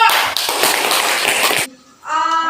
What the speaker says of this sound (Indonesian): give applause to group 4